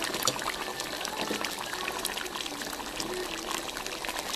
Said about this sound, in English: I'm going to add another cup of water.